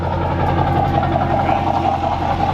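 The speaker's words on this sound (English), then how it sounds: "My truck is obnoxiously loud." A loud Duramax diesel pickup idles close by with a steady low rumble and faint knock-like texture, continuous for the whole stretch, with no talk over it.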